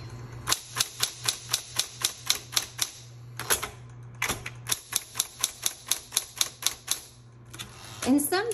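Typing on a repainted 1960s Electra 120 typewriter: rapid, evenly spaced sharp key strikes in two long runs, close and crisp, with a brief pause between and a low motor hum throughout.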